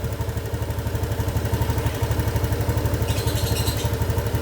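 Honda Beat scooter engine running close by, a throaty, pulsing putter with the throttle blipped so the rhythm quickens and swells, with a brief higher clatter near the end.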